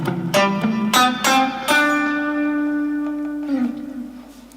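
Guitar notes of the Aeolian scale ring out across four strings, a quick ascending run of plucked tones with the final note sustaining and slowly decaying, played alone and clearly.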